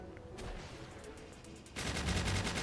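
Gunners in the video game Palworld open up with rapid, rattling automatic fire that starts suddenly partway through and continues, fairly faint and distant, after a low ambient stretch.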